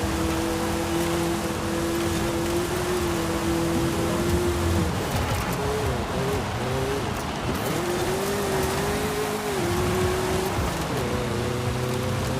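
A race car engine roars steadily in Forza Horizon 5, its pitch rising and dipping with gear changes and braking, loud and constant, with tire noise and a rain-like hiss beneath.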